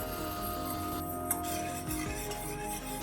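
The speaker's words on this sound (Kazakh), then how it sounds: "араластырамыз қант ерігенше." Sugar and water being stirred in a metal pot over low heat to dissolve into syrup, with a steady scraping and swishing of the spoon, a faint simmering hiss and a brief clink partway through.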